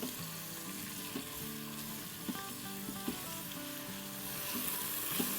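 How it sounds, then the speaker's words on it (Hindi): Finely chopped onion sautéing in a pan, a steady close sizzle and crackle with a few soft clicks of stirring, running continuously with no voices. "इसको थोड़ा सा हम सौटे करेंगे"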